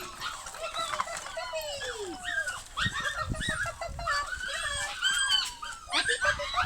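Seven-week-old puppies whimper and yip at close range in a busy, overlapping chorus of high, rising and falling cries and squeaks, with short yelps and scuffling between them.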